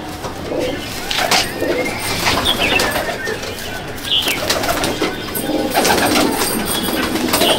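A female pigeon of the Golden breed coos in low, repeated calls among other pigeons, with occasional wing flaps and sharp chirps close by, at moderate loudness.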